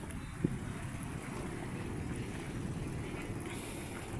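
A passenger boat's low engine rumble over constant wind and water noise on a short crossing to Naval, Biliran, steady throughout with a faint knock near the start.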